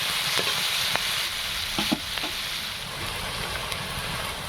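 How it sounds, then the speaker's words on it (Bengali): Onions fry in a little oil in a pan with a steady, moderately quiet sizzle, broken by a few light clinks from stirring. "এখানে পেঁয়াজটা প্রায় ভাজা হয়ে এসছে, খুব লাল করার দরকার নেই"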